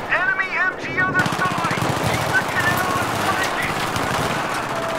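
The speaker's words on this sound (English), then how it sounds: "Enemy MG other side." Enemy machine gun fire in the Battlefield 3 campaign, sustained rapid rattling throughout at moderate distance, mixed with battle noise and a short shouted voice at the start.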